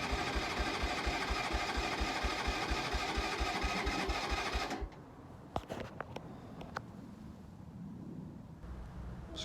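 A Keeway 125cc motorcycle engine runs at a steady, throbbing idle with regular low pulses for about five seconds, then drops away abruptly, leaving only a few faint knocks and clicks.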